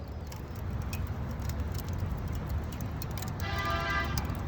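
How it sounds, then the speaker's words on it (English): A truck horn honks near a homemade pool heater that is burning and pumping water, a toot heard toward the end over steady low-frequency rumble from the burner and pump. "that truck just beeped his horn"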